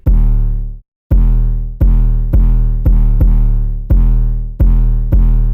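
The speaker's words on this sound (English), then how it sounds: "And of course the 808." Deep, booming 808 bass drum hits, about nine of them, each with a long sustained low tail, played alone after a brief gap near the start.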